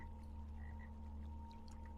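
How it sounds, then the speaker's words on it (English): Giant frog cosmetic pet in Lord of the Rings Online, faint low croaking over a steady hum of game ambience, no talk. "You can have just a frog. It's a gigantic frog."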